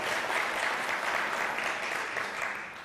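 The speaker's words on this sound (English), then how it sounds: "I've never gotten applause for the bands before." Dense, steady applause from an audience at a trading talk, a sustained wash of many hands clapping at even loudness for a few seconds, no voices over it.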